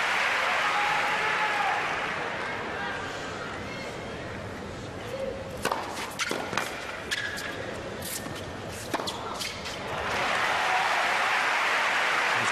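Indoor tennis crowd at a Madrid semifinal between Safin and Agassi, a broad wash of applause and cheering that dips mid-clip under scattered sharp claps and shuffling, then swells again loudly toward the end.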